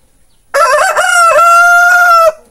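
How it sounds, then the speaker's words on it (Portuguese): A rooster crows once on a farm in the Brazilian countryside, a single loud, drawn-out call with a rising start and a long sustained tone that cuts off cleanly, heard alone without talking. "Porque tem algumas pessoas que acham que eu boto um fundo musical de galo cantando"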